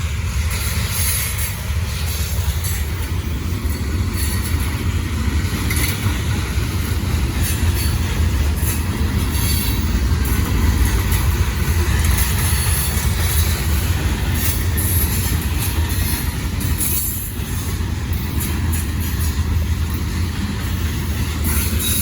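Norfolk Southern freight train rolling past at Gaffney, South Carolina, a loud continuous rumble of railcars with rhythmic wheel clatter and occasional squeal, sustained throughout at close range without talk.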